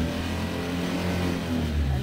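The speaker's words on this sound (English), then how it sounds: "Slowly put the choke in, engines will pick up" A boat engine, warming up as its choke is slowly pushed in, drones steadily and fairly quietly, with a low hum that rises slightly toward the end.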